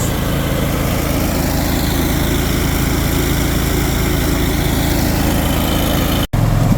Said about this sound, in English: Watching all the grain go down through the auger into the T6.